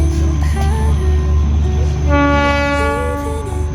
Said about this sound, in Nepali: यहाँ ट्रेन आउँदैछ